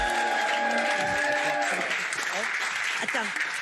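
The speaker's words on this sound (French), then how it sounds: "Applaudissements pour elle." A theatre audience applauds for a performer, broadband clapping running throughout while voices talk over it and a sustained tone fades out early on.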